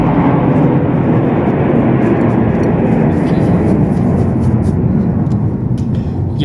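Airplanes fly overhead with a loud, steady roaring drone that fills the whole span, and a voice talks faintly beneath it.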